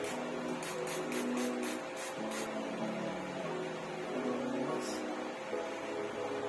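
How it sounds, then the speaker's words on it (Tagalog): Hair spray misted onto hair from an aerosol can in a run of short quick hisses, then one more spritz after a pause, over a steady background hum. "Itong spray. Spray itong buhok."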